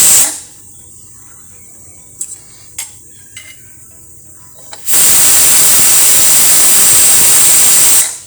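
A pressure cooker of raw rice cooking with milk on the stove hisses out steam in a loud, sustained whistle lasting about three seconds, after a few faint clicks and a quiet stretch.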